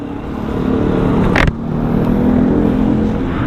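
A Honda CS1 250cc fuel-injected motorcycle engine running loud and close, a steady rough idle with one brief sharp click midway and a slight rise in the engine note afterward.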